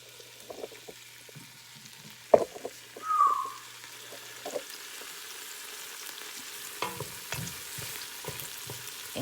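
Vegetables softening in a pan for a Southern spaghetti sauce give off a faint, low sizzle with a few sharp utensil knocks and stirring clatters, and no one talks.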